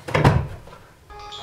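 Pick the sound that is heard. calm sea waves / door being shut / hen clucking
door being shut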